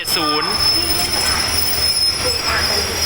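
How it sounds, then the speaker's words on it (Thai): SRT ordinary train 252, hauled by diesel locomotive 4505, pulls into Taling Chan Junction station with a loud, close metallic wheel squeal at the start, followed by a steady rolling rumble and lighter screeches. "ต้นทางสถานีประจวบคีรีขันธ์ปลายทางสถานีธนบุรีนำโดยดีเซล 4505 ครับ"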